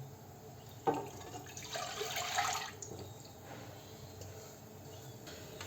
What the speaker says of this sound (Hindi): एक कढ़ाई लेती हूँ और इसमें मैं क्या करती हूँ, 1 लीटर के करीब दूध डाल दूँगी।